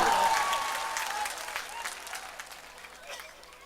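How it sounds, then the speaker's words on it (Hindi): A crowd at a political gathering greets an arriving speaker with a burst of hand-clapping that starts full and gradually fades away over a few seconds. "जोरदार तालियों से इस्तकबाल करें।"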